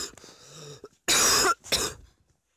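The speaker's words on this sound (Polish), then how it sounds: "A mi kaszel nie odpuszcza" Two loud, harsh coughs from a sick woman close to the mic, a long burst then a shorter one, after a moment of quiet rustling.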